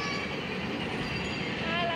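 A small amusement-park ride train rumbles steadily along its track at a fun center. The noise is continuous and fairly loud, with wheel and carriage clatter and no clear pauses.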